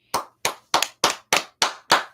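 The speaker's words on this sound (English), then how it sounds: "So I give you a round of applause" Seven sharp single hand claps spaced evenly at a slow, deliberate pace, close and crisp, with brief silence between each one and no voices.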